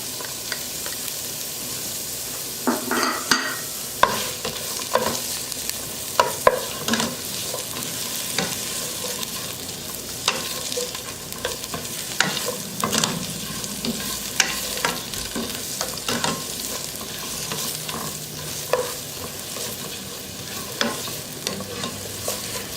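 Onion and garlic frying in olive oil in a pan, a steady sizzle broken by repeated scraping stir strokes, loud and close, with no talking.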